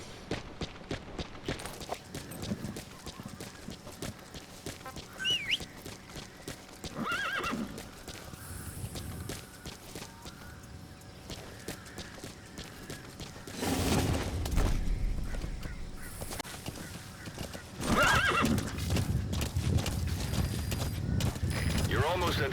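A horse in Metal Gear Solid V clip-clops along with repeated hoofbeats and lets out a couple of whinnies, amid game ambience and occasional bursts of louder action; a voice speaks at points.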